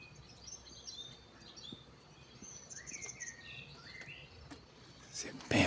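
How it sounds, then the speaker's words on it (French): Birds sing outdoors, with scattered chirps and short whistled phrases coming in and out over steady insect-like background noise. A louder burst of sound cuts in at the very end. "Écoutez le chant des oiseaux"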